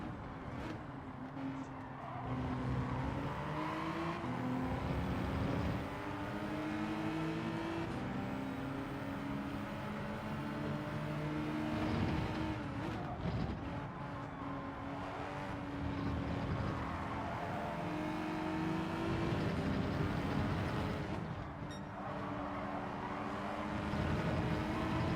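A Hyundai Elantra race car in Gran Turismo 7 revving hard and continuously, its engine note climbing and dropping through gear changes across a long run.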